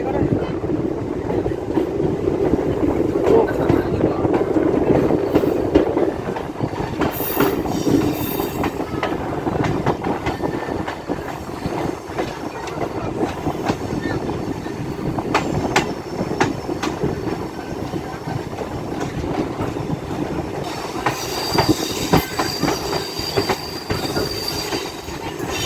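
A MEMU passenger train runs on rails between Masagram and Bankura, loud continuous rumble with rhythmic wheel clatter, squeals and wind buffeting heard from inside the moving coach.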